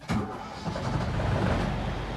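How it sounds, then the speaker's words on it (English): The diesel engine of a ship's lifeboat turns over and catches, then settles into a steady, close, rumbling idle. "The helmsman starts the engine."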